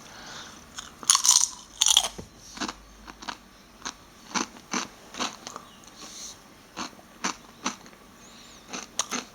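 Doritos Cheese Supreme tortilla chips bitten and chewed up close, with a burst of sharp crunches followed by a steady run of crisp chewing crackles.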